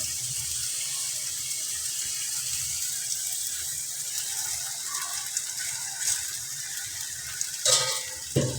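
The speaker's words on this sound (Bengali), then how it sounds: "এই যে নুডলসের পাস্তা ছেড়ে দিতেছে" Noodle pasta goes into a pot of boiling water while cooking noodles with chicken; a constant bubbling hiss fills the whole stretch, with a few light splashes and clinks toward the end.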